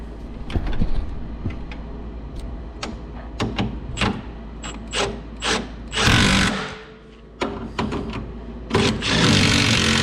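Milwaukee ratchet tightening bolts on a Takeuchi TL10 skid steer, a series of short, sharp buzzing bursts of varying length separated by pauses, with clanking in between, close by.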